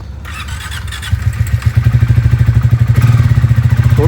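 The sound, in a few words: motorcycle cold start and engine running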